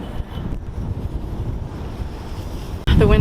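Wind gusting at a seaside campsite in Key West, a steady close rumble of buffeting against the microphone, alone, with a sharper blast at the very end.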